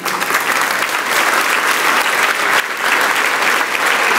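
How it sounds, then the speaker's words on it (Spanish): Loud, sustained applause from a large crowd, steady clapping throughout with a brief dip near the end. "Y del otro aplauso a ese viejo divino"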